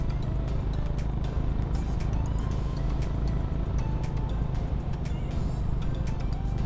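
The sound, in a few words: Honda H'ness CB350 motorcycle exhaust while riding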